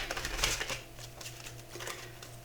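Quick riffling bursts of cards being shuffled, a few short flurries close by, fairly quiet with no talking.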